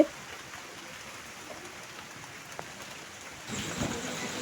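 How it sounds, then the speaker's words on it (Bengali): Faint, steady rain hiss during Cyclone Remal, swelling louder and rougher near the end as wind or heavier rain picks up. "এত ঝড় হচ্ছে ফোন নিয়ে দাঁড়াতে পারছি না"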